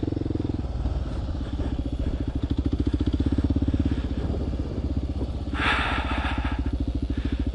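A small dirt bike at a riding track, its engine buzzing and pulsing close by in a rapid, rhythmic putter that rises briefly with a brighter rasp as it revs.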